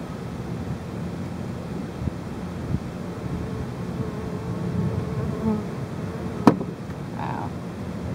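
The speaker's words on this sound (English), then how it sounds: "Look at all the bees." A dense, continuous buzz of many honeybees at an open hive during inspection, fairly close and steady throughout, with a brief sharp click near the end.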